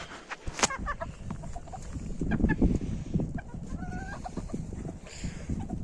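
A rooster and four hens cluck and chatter in a small backyard coop, overlapping close clucks with a few sharper calls and squawks over a continuous farmyard murmur.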